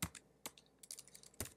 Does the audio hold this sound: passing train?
no